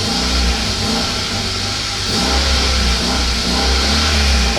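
Kia car engine running at very light throttle, a steady loud mid-range hum with slight revving swells, close and continuous with no speech.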